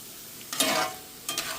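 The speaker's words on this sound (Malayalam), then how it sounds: "ഞാനിവിടെ ഒരു ഓയിലിനകത്താണ് വറുത്തോരി എടുക്കുന്നത് പിന്നെ കറിവേപ്പിലയും കൂടെ ചേർത്തിട്ടുണ്ട്" Salmon pieces with curry leaves fry in oil for pickle, a faint background hiss rising into two short, brighter sizzling bursts as the pan is stirred.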